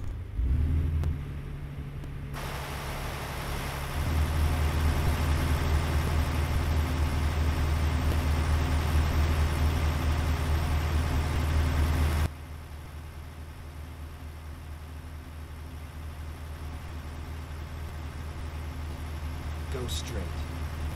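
Caterpillar C13 engine idling in a Freightshaker Classic XL truck in American Truck Simulator: a low steady hum that thickens for several seconds, then drops back to a softer idle drone.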